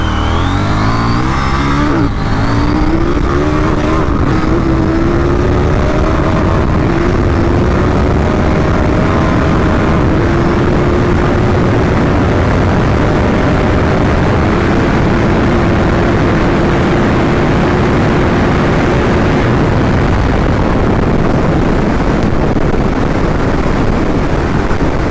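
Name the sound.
KTM Duke 790 motorcycle accelerating to top speed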